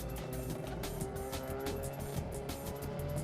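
Race cars on a slow parade lap at NC Motor Speedway, "The Rock", in 2005, a faint distant engine drone with a few passing swells, heard alone without talk.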